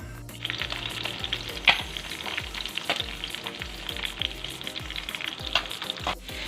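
Garlic sautés in hot oil in a pan for binayabasang sitaw, a continuous crackling sizzle with rhythmic scraping strokes of a spatula, close and loud, no talk.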